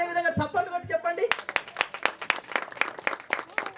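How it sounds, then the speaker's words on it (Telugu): A wedding congregation claps hands together, a dense burst of many overlapping claps that follows a moment of voice and continues steadily and fairly loud. "ఒకసారి అదే విధంగా చప్పట్లు కొట్టి చెప్పండి"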